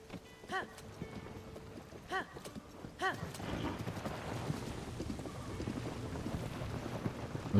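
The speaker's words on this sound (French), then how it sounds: "Mais c'est quoi cette charrette qui roule pas droit là?" A horse-drawn cart in Zelda Tears of the Kingdom, with a few separate hoof clops early on, then a rolling rumble with wind noise that continues to the end.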